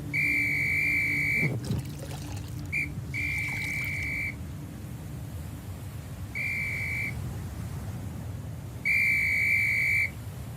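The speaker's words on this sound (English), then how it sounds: "James, sound that whistle." A shrill whistle blows in four sustained blasts, separated by pauses, over a steady low rumble of engine or water noise.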